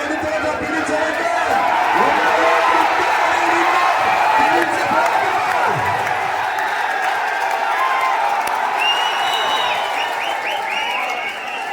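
A large crowd claps and cheers at a tug-of-war match on a ground, a loud, continuous wash of applause with whoops that holds steady for several seconds while voices carry through it.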